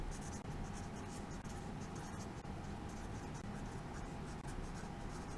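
A theorem is written out by hand, likely pen or marker on a board, during a geometry lesson on angle bisectors. Steady faint scratching strokes run for several seconds over a constant background hum.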